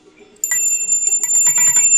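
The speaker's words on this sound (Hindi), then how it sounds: "ये देखो जरा कितनी बढ़िया घंटी बजा रहे हैं" A small hand bell rung by a young child at home, a quick run of bright tinny clangs repeating close by after a brief quiet start.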